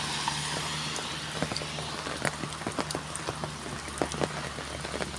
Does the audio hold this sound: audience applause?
no